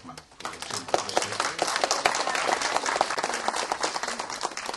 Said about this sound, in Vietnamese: Chúng tôi xin quý vị một tràng pháo tay chào mừng quý quan khách